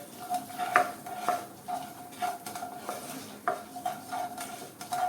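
Roughly crushed coriander seeds stirred in oil over a low flame, giving repeated close scrapes of a spoon against the pan over a soft, steady sizzle.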